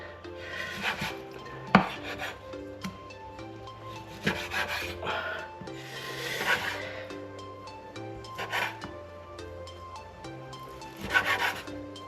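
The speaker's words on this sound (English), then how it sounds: "Just a few more slices and we're done." A knife slices beef for a stir fry on a cutting board, with rasping strokes in repeated bursts about every two seconds, close and fairly quiet, no talk.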